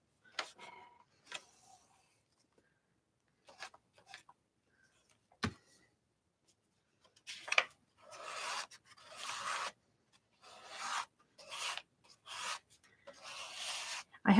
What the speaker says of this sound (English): there's just something very therapeutic about scraping paint on a page